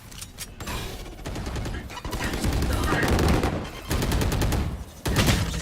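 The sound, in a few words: gunfire shooting through a wall in the video game Valorant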